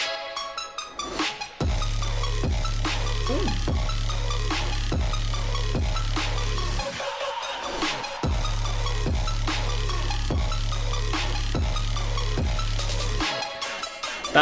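Heavy dubstep track driven by a loud belching bass synth, with a thick low drone repeating in pulsing phrases, punctuated by drum hits and brief breaks.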